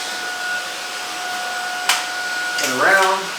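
A Shark Vertex cordless vacuum cleaner runs with a steady whine, interrupted by a sharp click and a brief rising whir near the end.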